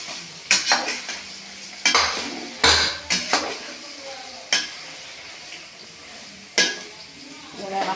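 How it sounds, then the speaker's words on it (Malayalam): Beef pieces stirred in hot oil in a metal pan while making beef pickle: repeated scraping clinks of a spoon against the pot over a low sizzle, several sharp clatters spread through, no talk. "ഇങ്ങനെ ഇളക്കട്ട എണ്ണ നോക്കൂ ലൈസ,"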